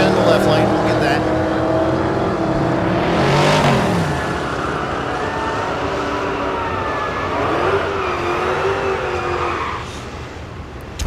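A Corvette and a Ford drag race side by side at Thunder Valley in Noble, Oklahoma, engines roaring loud and steady with a rising pass near the middle, while an announcer talks over the run.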